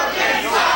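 A wrestling arena crowd roars loudly and continuously at close range, a dense wall of massed cheering and yelling with no pause.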